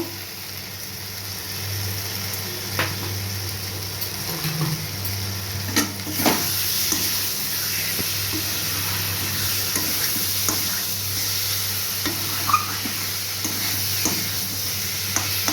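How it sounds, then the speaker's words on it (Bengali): Egg and potato sauté with spices in a pan for an egg potato curry, giving a continuous loud sizzle with occasional scraping and knocks from stirring. "মশলার সঙ্গে ডিম আর আলুটা কষানো হয়ে গেছে।"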